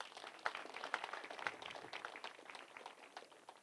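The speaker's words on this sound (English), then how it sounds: "And we should give them a clap for that." Scattered applause from a party audience at a clinical research centre's silver jubilee celebration, a dense patter of many hands clapping steadily for several seconds with no talking over it, moderately loud and slightly distant.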